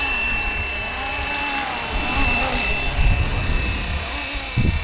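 A Bell 206 helicopter lifts off on an emergency call, its turbine whine and rotor thrum steady and fairly loud, swelling slightly toward the end.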